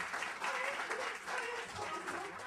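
Audience applause at a story slam used as an applause meter, a steady wash of clapping from a crowd for about two and a half seconds at moderate volume.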